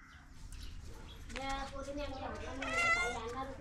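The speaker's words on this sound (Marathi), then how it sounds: "गोड आहे आमची माऊ." A domestic cat meows several times in a row, fairly close, with voices talking around it.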